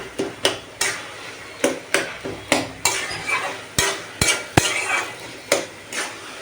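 Metal spatula scraping and clanking in a wok while small fried rohu fish heads are stirred and broken up during cooking of a kochu shak (taro leaf) dish, a steady series of sharp, close clatters roughly every half second.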